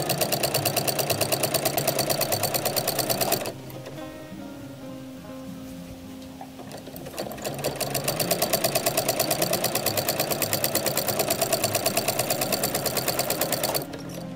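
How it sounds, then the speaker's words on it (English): A sewing machine stitches folded scrap binding onto the edge of a quilt, a fast steady whirring run that stops for a few seconds of quiet handling, then resumes and runs on close and clear. "I am going to sew 1/4 inch folded together this right onto edge of the quilt as soon as I turn my machine on."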